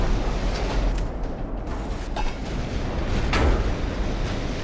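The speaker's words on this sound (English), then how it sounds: "Now here come the shots from my little guns." Secondary guns on a modern battleship fire in a naval engagement in Ultimate Admiral: Dreadnoughts, heard as a steady, dense rumble of distant gunfire with scattered sharper reports near 2 and 3.4 seconds and no talk.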